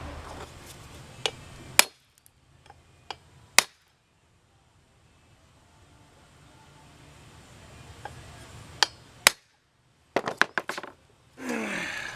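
Sharp metal strikes of a hammer on a punch against a U-joint cap on a Jeep XJ drive shaft: scattered single blows and quick bursts separated by quiet gaps, close and loud.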